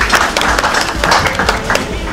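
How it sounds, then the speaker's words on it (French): An audience at a press conference for a mixtape release claps loudly and densely, a close, steady burst of applause without pause. "Est-ce qu'on peut applaudir très fort?"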